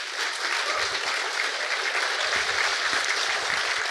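An audience at an industry-day expo gives a sustained round of applause, a dense wash of clapping that carries on evenly with scattered louder claps and no break.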